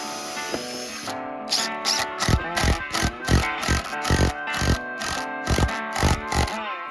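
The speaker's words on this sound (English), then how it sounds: "I like to pre-drill the first hole, because that lets the screws seat deeper" A power drill pre-drilling screw holes in 2x4 lumber: about a dozen short, sharp whirring bursts in quick succession, loud and close, with no talk.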